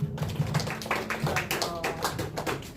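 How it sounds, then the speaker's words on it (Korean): A congregation at a youth church service claps together in blessing, a patter of moderate hand claps with a low steady tone underneath, fairly close and even throughout. "우리 서로를 축복하는 마음으로 박수"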